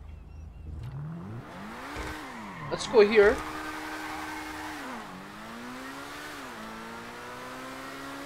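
A Progen Emerus supercar in GTA Online revs and accelerates, its engine pitch climbing through gear shifts with a brief squeal or bump midway, while someone speaks briefly over the steady drone.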